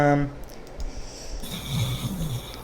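A person snoring during a StarCraft stream, with a few rough snorts and breaths, faint and intermittent, mixed with low background noise and other indistinct sounds.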